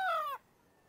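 A single short, bright call from gamefowl chickens in a breeding pen, close and clear for about a third of a second, then only quiet background.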